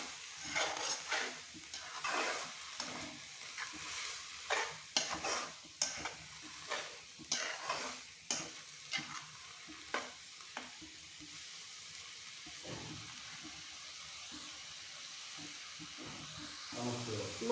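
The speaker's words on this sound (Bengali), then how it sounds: "দিয়ে আবার ভালো করে শাকগুলোকে নেড়ে নেব" Pea greens are tossed in a frying pan for a taki fish recipe, with rhythmic, fairly quiet scraping stirs over a low sizzle that slow and fade in the later seconds.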